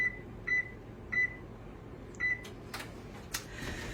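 A home oven being set to preheat to 350 gives a series of short, clear electronic beeps, four evenly spaced chirps followed by faint clicks and a quiet room hum.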